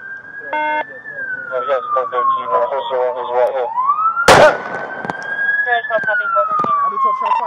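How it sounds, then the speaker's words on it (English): A sudden, sharp gunshot burst rings out midway through a police confrontation with an armed robbery suspect, cutting through a loud, wailing police siren that rises and falls throughout. "Shots fired."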